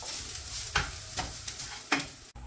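Onion and grated coconut fry in a pan for a South Indian snake gourd theeyal, a soft continuous sizzle broken by three or four rhythmic scraping stirs of a spatula.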